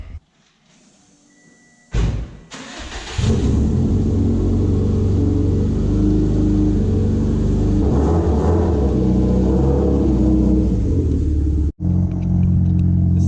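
A Subaru STI with an exhaust that dumps out a side cutout instead of the rear starts up after a quiet moment and settles into a loud, deep, rumbling idle, close by and steady, with a brief dip before continuing.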